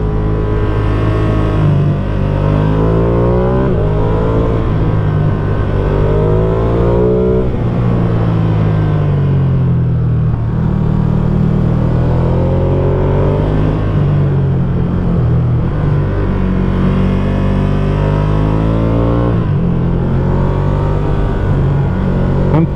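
Motorcycle engine revving up and down through gear shifts on a winding Austrian mountain road, a loud, close, continuous drone that rises and falls in pitch with each shift, with no talking.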